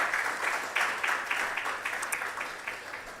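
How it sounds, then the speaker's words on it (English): Audience applause at a ceremony for the opening of a genomic medicine building, a steady round of clapping with rhythmic swells, moderately loud and without talk. "A round of applause for him once again."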